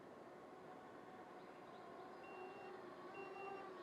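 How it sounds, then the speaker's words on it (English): Cheersons CX-91 drone beeper sounding intermittent thin, steady electronic beeps, faint over a constant broadband hiss of background noise, with no talking. "We have a beeper."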